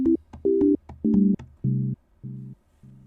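An Ableton Operator synth plays a run of about seven short, separate notes with LFO modulation, each a clean buzzy tone that starts and stops abruptly. The notes fall slightly in pitch and grow a little quieter.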